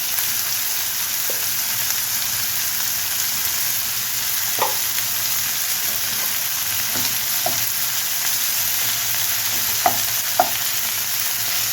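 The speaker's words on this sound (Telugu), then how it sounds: "బాగా వేగాలండి ఇందులో కొంచెం కరివేపాకు అల్లం వెల్లుల్లి పేస్ట్ వేసుకుంటాము" Curry leaves and ginger-garlic paste fry in hot oil with a constant, even hiss. A few sparse pops and light utensil taps break through, and there is no talking.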